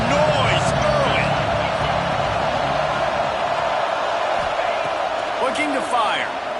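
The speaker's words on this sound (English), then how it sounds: "This crowd bringing the energy and noise early." A football crowd roars steadily throughout the game, a loud, dense wall of cheering and whoops with a few sharper shouts rising near the start and end.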